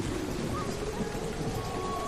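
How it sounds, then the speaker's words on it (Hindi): Heavy rain pours steadily in an animated village story, a dense, continuous hiss of water close by with no voices over it. "और तेज बारिश हुई।"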